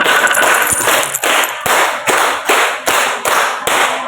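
A group claps in unison in a rhythmic five-count pattern done twice, about ten crisp, loud, evenly spaced claps in a row with no talking.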